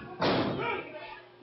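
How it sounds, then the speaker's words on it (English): A German suplex slams a wrestler onto the ring mat during a PCW heavyweight championship match in Georgia, making one sharp, heavy thud that rings out and fades under arena noise. "Kip up into the German suplex with the bridge."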